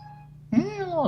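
A single drawn-out meow, fairly close, rising then falling, following a brief stretch of low background hum.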